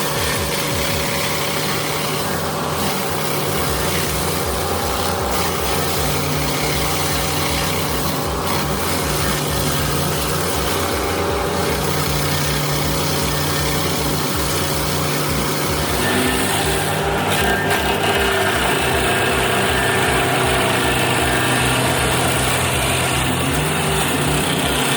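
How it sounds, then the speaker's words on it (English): A SP5014 TRX stump grinder engine runs steadily and loudly throughout, a continuous close mechanical drone with a rhythmic low pulsing, rising slightly in intensity toward the end. "The SP5014 TRX stump grinder is here to save the day."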